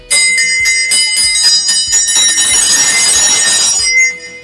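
A school hand bell rung steadily at the end of recess in a Uruguayan mining town, a loud, rapid metallic clanging with bright ringing overtones that carries on for about four seconds before stopping abruptly.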